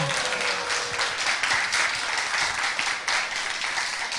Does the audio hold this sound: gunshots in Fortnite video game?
no